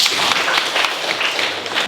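Students in a classroom at a vocational high school clap together in a short burst of dense, uneven applause that carries on steadily for a couple of seconds.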